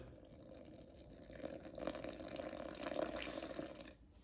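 Water pours into a sourdough bread mix in a kitchen, a steady thin trickle lasting a few seconds before tapering off, close and fairly quiet with no talking.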